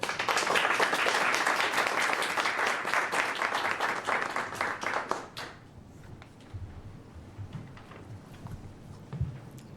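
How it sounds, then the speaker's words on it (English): An audience at a talk gives a speaker a round of applause, dense, loud clapping that runs for about five seconds and then drops off quickly, leaving scattered claps and faint room noise. "Now, please give a round of applause to Ms. Wan."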